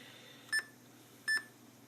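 A ThinkPad T21 laptop gives two short, clear electronic beeps about three-quarters of a second apart as its screen is adjusted, quiet and close over a faint background hum.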